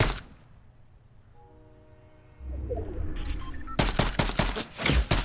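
Fortnite gunfire breaks out as a rapid burst of loud, close shots in the last second and a half, preceded by a quieter game soundscape with faint tonal ambience.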